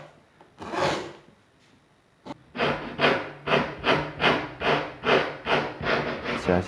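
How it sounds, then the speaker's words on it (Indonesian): Leftover HPL laminate edges on a sofa table with iron legs being trimmed by hand with a file: a rasp stroke, a pause, then about nine rhythmic back-and-forth scrapes, close and evenly spaced, with no talking. "Kemudian sisa-sisa HPL-nya saya rapikan menggunakan kikir."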